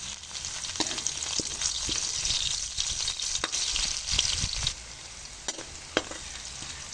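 Garlic and onion frying in a pan, a close, bright sizzle with scattered spatula knocks and scrapes, quieting toward the end, with no voices.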